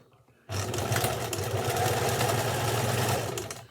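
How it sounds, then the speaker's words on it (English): A sewing machine back stitches fabric for a scrunchie, starting abruptly after a quiet moment and running as a steady, close mechanical whir for about three seconds before easing off. "Now I do a little back stitch here"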